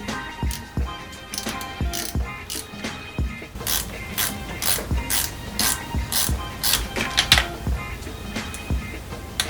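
A hand ratchet loosens valve cover bolts on a Subaru WRX engine, with sharp clicking bursts in quick repeated runs, close up, separated by short pauses and faint metallic handling.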